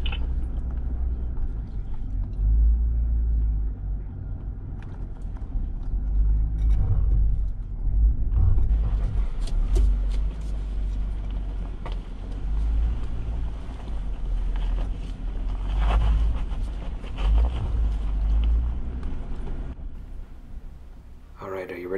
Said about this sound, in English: You can actually hear the top of the snowbank rubbing against the skid plate.